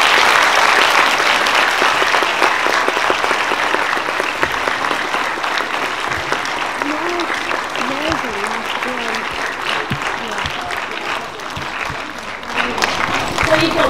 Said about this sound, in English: can we please give them another big round of applause?